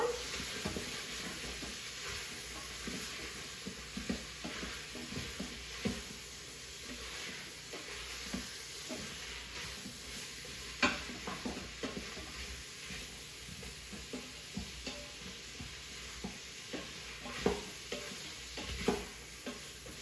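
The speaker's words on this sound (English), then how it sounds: "Okay, I'm going to stir those around." Vegetables cook in a soup pot while being stirred, a low, steady sizzle and hiss with scattered soft scrapes and knocks of a spoon against the pot, fairly quiet and close, with no talk.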